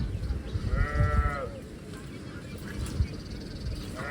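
A goat gives one short bleat, then another begins at the very end, both fairly faint over a noisy outdoor background.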